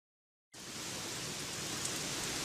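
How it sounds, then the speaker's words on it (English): Steady, dense rain noise starts abruptly after a brief silence and continues evenly, a heavy hiss with no voices. "It's raining cats and dogs again."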